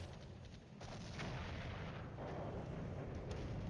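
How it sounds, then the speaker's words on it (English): Heavy artillery fire in the Cold War tactical video game Flashpoint Campaigns: a dense, continuous rumble of distant shelling with overlapping booms and bursts, sustained and loud throughout. "that's some heavy artillery coming in."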